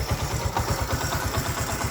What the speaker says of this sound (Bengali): 1 লাখ টাকার গাড়ির ইঞ্জিনে এত সুন্দর সাউন্ড পাওয়া যায় না